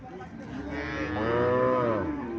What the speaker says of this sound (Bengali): এখানে একটা সাইওয়াল জাতের গাভী দেখা যাচ্ছে